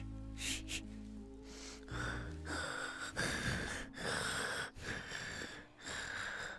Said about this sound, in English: Sounds like Moose breathing.